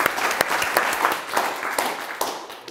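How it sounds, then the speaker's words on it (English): Short burst of lively audience applause at a healthcare Q&A event, dense and fairly close, with crisp individual claps and a murmur of crowd beneath. "Give Stephen Matt a big round of applause for that."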